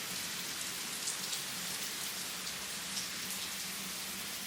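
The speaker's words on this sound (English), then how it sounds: "Lord knows we need this rain." Rain falls outside onto a yard of dry brown grass, making a steady, dense hiss that stays even throughout, with no voices.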